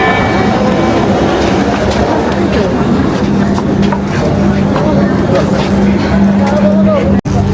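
Metro train running, with steady rumble and rail noise throughout and a brief dropout near the end, while a voice speaks over it.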